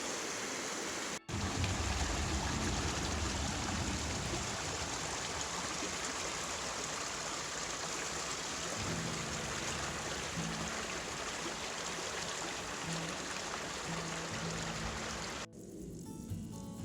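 Snowmelt water rushing through a small mountain irrigation channel in the Alps, a steady, full, close-up wash of flowing water that continues unbroken.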